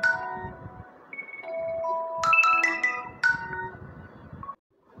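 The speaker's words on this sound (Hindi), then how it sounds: "तो ये फ़ोन आ गया था" A phone ringtone plays alone for several seconds, a melodic electronic tune of bright beeping notes at moderate loudness, cutting off abruptly near the end.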